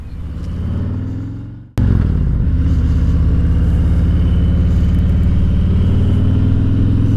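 A motorcycle engine drones steadily at highway speed, loud and close throughout, with a brief dropout and sharp break partway before the constant engine roar and wind resume.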